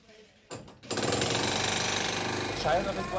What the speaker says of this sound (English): walls are still being drilled into as people look for secret rooms or hiding places